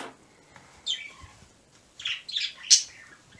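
A bird outside gives several short, scratchy chirps and squawks, scattered irregularly and fairly faint against a quiet background.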